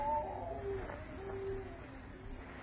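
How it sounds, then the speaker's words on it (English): A cat meows in a radio drama set in a quiet house at night. Drawn-out, wavering meows come at moderate loudness over a low, muffled background hum, with no talking. "That cat. Yeah. It sounds huge, doesn't it?"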